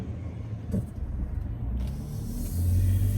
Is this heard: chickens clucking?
no